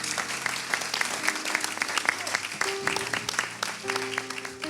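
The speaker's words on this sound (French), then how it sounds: "j'aimerais qu'on puisse faire un tonnerre d'applaudissements pour le MC" Audience at a conference clapping for the MC, dense sustained applause with some rhythmic unison claps and a few voices mixed in, loud and close throughout.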